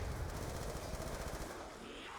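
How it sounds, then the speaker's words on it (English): Rapid automatic gunfire from a gun in Black Ops 2 Zombies, a dense stream of shots for about two seconds that fades out toward the end, fairly faint overall. "I just dumped half a mag into the floor."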